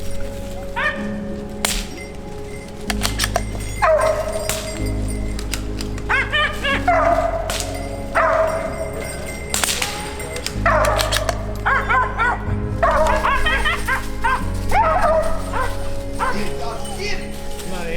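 Hunting dogs bark and yip repeatedly in the woods while chasing squirrels on a small-game hunt, loud, close bursts in an irregular rhythm, with someone talking and urging the dogs on between them.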